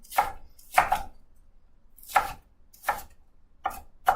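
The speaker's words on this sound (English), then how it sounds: "we're dicing up half a red onion now" A kitchen knife dices half a red onion on a cutting board: six crisp, close chops in an uneven rhythm with short pauses between them, and no voices.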